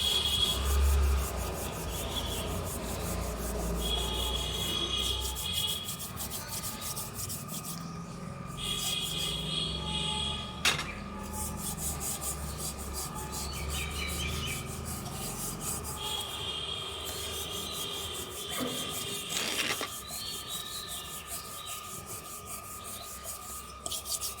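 Pooja vessels are scrubbed clean by hand, making a continuous, fairly quiet rubbing and rasping sound that goes on steadily throughout, with no talking.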